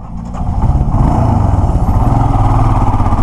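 A Royal Enfield motorcycle engine runs steadily up close, a loud, thumping low-pitched idle that holds with an even pulsing rhythm after a brief lead-in.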